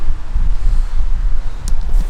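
Gusty wind buffets the microphone in low, uneven rumbles, loud and close, with no voices.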